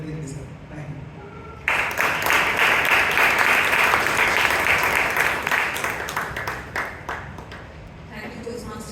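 A burst of audience applause at a Bangalore Toastmasters club meeting breaks out suddenly, holds as dense, even clapping for several seconds, then tapers off into scattered claps, with quieter room sound before it.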